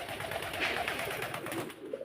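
A pair of Black Lahori pigeons coo steadily at close range, a soft throaty warble that carries on alone without talk.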